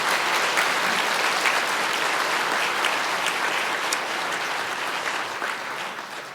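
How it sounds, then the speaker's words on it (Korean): A church congregation applauds to welcome visiting guests during a service: dense, steady applause from many hands that holds for several seconds and then tapers off slightly at the end, with no talking over it. "잠깐 좀 자리에서 일어나시면 박수로 환영을 하겠습니다."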